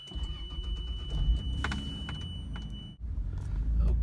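A 1996 Lexus LX 450 SUV, a Land Cruiser variant, cranks and its engine catches, then settles into a low, steady idle, with a brief click and dip in the middle of the start.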